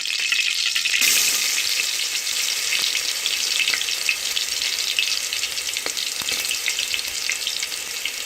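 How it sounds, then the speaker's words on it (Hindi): Steady, loud sizzling and crackling of garlic and ginger frying in hot ghee, with a sharp burst as they hit the pan and occasional light stirring. "यहाँ पे घी गर्म हो गया है, इसके अंदर अब मैं ये लहसुन अदरक डाल देंगे।"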